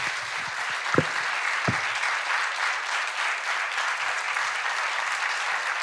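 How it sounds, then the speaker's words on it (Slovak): Long, steady applause from an audience at a talk, dense and sustained throughout with no voices standing out. "Ten potlesk je dlouhý."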